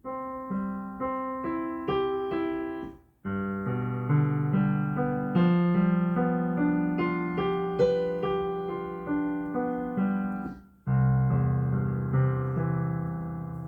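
A low-register piano left-hand part played alone, chords and notes sustaining with brief pauses between phrases, clear and close.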